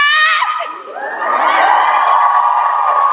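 A school crowd of students at a fall scholarship event yells the chant "Go Regis" in unison, a loud, sustained mass of cheering voices that swells and holds.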